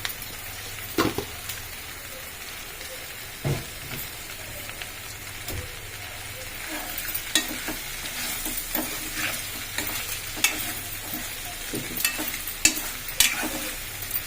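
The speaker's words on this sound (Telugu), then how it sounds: "ఇప్పుడు ఇవి గోలినాయండి, బెండకాయలు గోలినాయి మంచిగా." Okra fries in oil in a pan, a steady crackling sizzle broken by scraping and clacking as a spoon stirs it now and then, close up and without talk.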